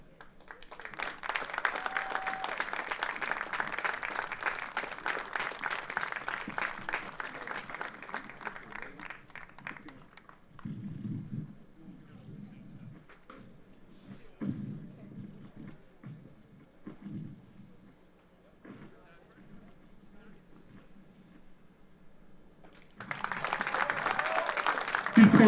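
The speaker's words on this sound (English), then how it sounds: "Give a round of applause." Steady applause from a crowd at a high school baseball game between Portville and Canisius after a ceremonial first pitch, running about ten seconds and then dying out. Quiet talk follows before clapping swells again at the end.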